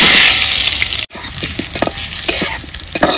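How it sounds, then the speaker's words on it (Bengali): Cut potatoes frying in mustard oil in a wok, a steady loud sizzle with crackling pops and the scrape of stirring, briefly cut off near the start before resuming. "দিয়ে দেবো কেটে রাখা আলুগুলো"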